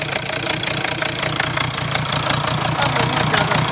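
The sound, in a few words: Hyundai Tucson D4HA engine running but misfiring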